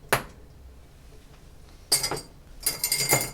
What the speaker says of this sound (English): I'm just gonna get a big rock of ice and I'm gonna drop it in.